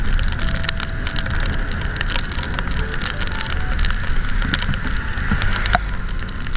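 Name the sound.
rain falling during a motorcycle ride in Baguio City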